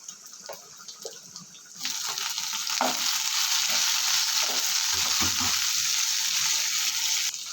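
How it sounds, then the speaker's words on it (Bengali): Ginger-garlic spice paste sizzling in hot oil as chopped tomatoes go into the pan, with a sharp hiss and burst, then a steady loud frying sizzle with occasional stirring, no talking. "মশলাটা একটু ভাজা ভাজা করে নিয়েছি। এখানে টমেটো কাঁটাগুলো দিয়ে দেবো"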